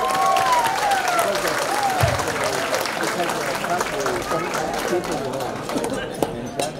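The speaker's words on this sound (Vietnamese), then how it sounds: "Xin một tràng pháo tay thật lớn." Applause from the audience at a mayoral campaign fundraising gala in Westminster, a steady crowd of clapping that continues throughout, with chatter and a voice heard over it.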